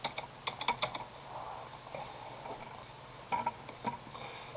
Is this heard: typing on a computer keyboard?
yes